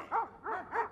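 Three quick, loud, fierce barks from a nearby livestock guardian dog protecting its flock, evenly spaced in a short burst.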